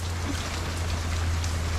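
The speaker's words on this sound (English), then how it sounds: "the wind and rain was blowing one direction the entire time" Heavy rain during Tropical Storm Fred: a dense, continuous hiss of falling water over a low steady drone, close and even in loudness from start to end, with no voices.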